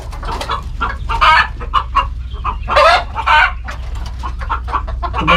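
Native chickens, both roosters and hens, cluck and crow in a loud, busy chorus close by, with repeated calls overlapping throughout and no one speaking.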